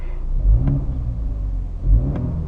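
A new BMW 4 Series four-cylinder engine rumbles at idle with two deep burbling pops from the exhaust, spaced about a second and a half apart.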